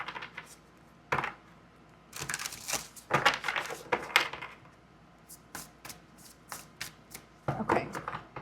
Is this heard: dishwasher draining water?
no